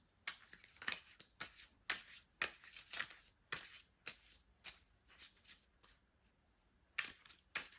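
Tarot cards are shuffled and drawn close up, quiet crisp riffles and slaps in irregular bursts over about eight seconds, with no talk.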